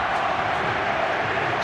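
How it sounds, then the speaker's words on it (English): A football stadium crowd at the Ramon Sanchez Pizjuan roars after a Sevilla goal against Real Madrid, a dense, loud, continuous wall of cheering with some talk mixed in. "Sending this crowd at the Ramon Sanchez Pizjuan wild."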